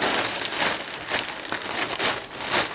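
Plastic trash bag crinkling and rustling continuously as it is pulled and fitted over a backpack, loud and close with no pauses.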